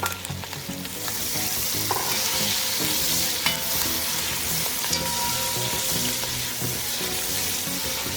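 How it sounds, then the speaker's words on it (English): Green seasoning sautés in a pan for Jamaican fricassee chicken, a loud, continuous close sizzle and crackle with occasional stirring scrapes, and no talking. "you could just saute this for about a minute"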